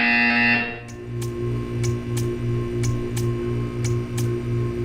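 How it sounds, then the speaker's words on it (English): A Portal 2 test-chamber buzzer sounds as a pulsing electronic drone, with a regular run of short beats over a low hum after a brief tonal opening. "You will hear a buzzer."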